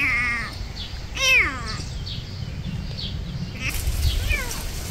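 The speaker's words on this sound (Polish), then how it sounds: "Czyżby to będzie nasz kot, który nas znalazł?" A frightened stray kitten meows in several rising, wavering cries, loudest near the start and again at the end, over a steady low background hum.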